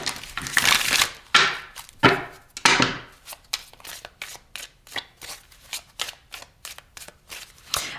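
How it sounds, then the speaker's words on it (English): Tarot cards being shuffled by hand: a few long riffling bursts followed by a steady run of short, crisp card slaps and taps, close and clear with no talking. "I'm going to shuffle the cards, and then I'm going to lay all the cards out."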